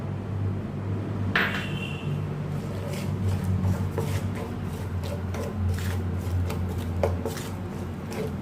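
Almonds and cashew nuts stirred in butter in a pan, with steady scraping and light clinking of a utensil against the pan, plus faint sizzling throughout.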